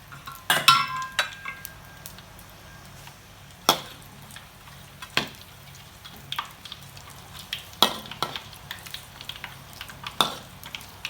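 Sun-dried pork fries in hot oil under a low sizzle, broken by sharp intermittent clinks and scrapes of a utensil against the pan, close and without speech.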